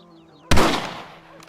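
A single sharp rifle shot in the video game Red Dead Redemption, a sudden loud crack with a short fading tail after a faint tonal background.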